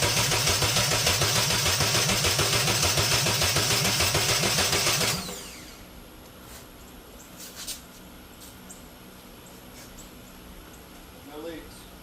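A Nissan Hardbody truck engine cranks with a loud, fast rhythmic churning for about five seconds, then stops suddenly, leaving quiet with faint background noises.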